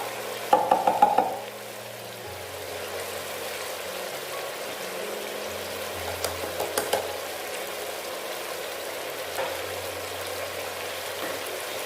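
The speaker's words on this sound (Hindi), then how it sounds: "अब इस अदरक को भी इसके साथ अच्छे से फ्राई करना है।" Ginger fries alongside chicken in a pot of degi korma over medium heat, a steady low sizzle running throughout with a few brief bursts of stirring clatter near the start and middle.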